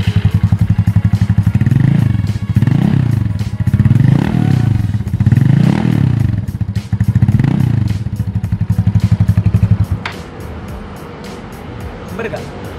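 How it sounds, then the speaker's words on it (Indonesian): A motorcycle's stock exhaust rumbles steadily close by after starting, with a pulsing engine note rising and falling in repeated revs before settling near the end. "Nih, lihat nih, knalpot. Nyalain nih motornya."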